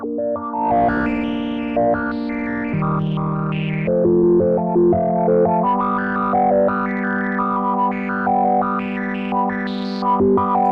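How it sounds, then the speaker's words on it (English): A GForce Bass Station synth line through a resonant high-pass filter and distortion, harsh and distorted with a sweeping resonance, playing a continuous melodic pattern with shifting notes, loud and steady throughout. "So it's actually a resonant high-pass filter, and add some distortion."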